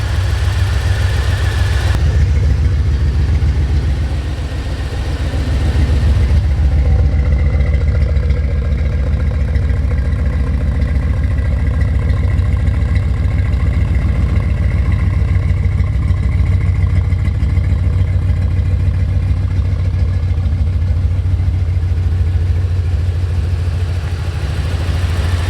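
A C4 Corvette V8, started for the first time in over twelve years, idles loudly and close with an uneven misfire and a possible header exhaust leak, a steady rough rumble that dips briefly early on.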